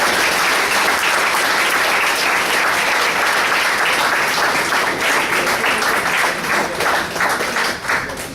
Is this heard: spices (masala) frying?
no